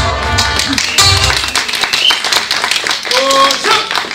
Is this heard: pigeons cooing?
no